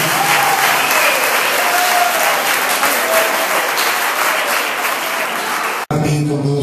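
Graduation audience applauding in a hall, a dense, loud, continuous wash of clapping that runs several seconds before cutting off abruptly, followed by a brief voice.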